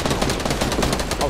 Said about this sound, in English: Minigun is the worst gun in the game.